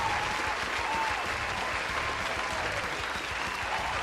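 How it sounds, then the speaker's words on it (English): Steady audience applause marking the end of a livestream subathon, a dense, continuous wash of clapping that fills the whole stretch at an even level with no pauses. "Let's clap for the end of the subathon"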